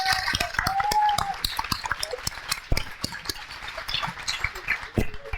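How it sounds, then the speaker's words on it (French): A studio audience claps during a French debate show, dense irregular hand claps close by, with voices and laughter mixed in throughout. "Merci beaucoup, on les applaudit."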